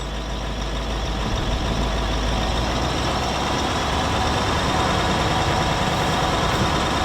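A Range Rover L322 with the TDV8 diesel engine runs steadily under raised revs, a continuous, fairly loud engine drone with a heavy low rumble holding without pauses.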